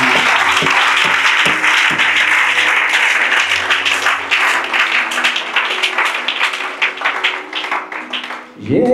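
Sustained applause from a church congregation acclaiming the Lord during a sermon, a dense steady wash of many hands clapping close and loud throughout, with faint voices and brief low tones mixed in beneath it.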